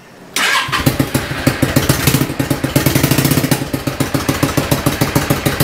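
A mystery motorcycle engine starts after a choke and ignition are set and then runs loud with a slack, loosely fitted exhaust, making a steady close clattering pulse with no talk.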